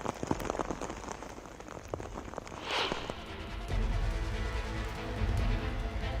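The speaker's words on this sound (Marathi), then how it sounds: "मुंबईला पावसाचा फटका बसतोय." Heavy rain pours down in Mumbai as a dense, steady patter on surfaces, with close drops tapping sharply at first before the downpour settles into an even, louder roar.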